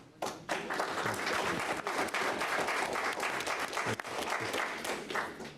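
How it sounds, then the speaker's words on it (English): An audience at a town board meeting in Rolesville gives sustained applause. The clapping is dense and even and lasts about five seconds, with a brief quieter start and no speech over it. "Since everyone's clapping,"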